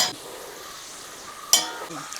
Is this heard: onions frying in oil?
yes